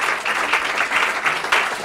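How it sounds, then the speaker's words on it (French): Audience at a French talk on sport and the brain breaks into brief, lively clapping, a dense patter of hands with slight surges, close and loud for under two seconds. "Donc on applaudit."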